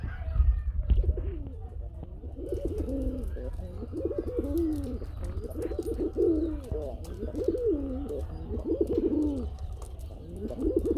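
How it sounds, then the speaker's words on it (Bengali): A red pair of large native Bombay pigeons gives deep, heavy coos in a steady repeating rhythm, close and loud over a low background rumble. "দেশীয় বড় সাইজের বোম্বাই ডাক হেভি ডাক"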